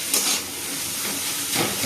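Food frying in oil under a lid in a home kitchen gives a steady, close hiss with soft steamy swells rising and falling throughout. No one speaks.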